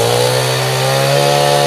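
A chainsaw cuts a tree, a loud steady engine drone with strong harmonics running the whole time, rising slightly in pitch near the end as the chain bites into the wood.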